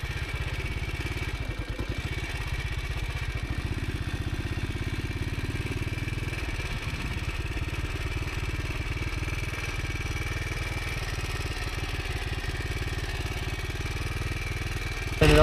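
Classic motorcycle engine running steadily on a trail, a continuous near idle-to-low throttle rumble with light mechanical clatter, heard alone without talk.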